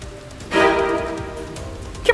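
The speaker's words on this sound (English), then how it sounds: "Now it's raining on my move-in day." Steady rain falls on a move-in day in a pretend-play cartoon scene, a soft hissing wash that starts about halfway in and continues under tonal music, with a brief sharp sound near the end.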